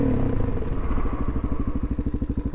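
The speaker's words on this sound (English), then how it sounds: "Let's panic brake." A motorcycle engine labors under hard panic braking without ABS, likely at about 35 mph, with a loud, steady rumble that turns into a rapid pulsing chatter through the second half.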